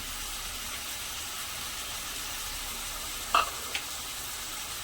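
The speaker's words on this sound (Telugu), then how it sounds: "తోటకూర కూడా కొంచెం మనకి ఫ్రై అవ్వాలండి" Tomato and amaranth leaves frying in a pan make a steady, close hiss, with a couple of brief spoon or utensil knocks near the end and no talking.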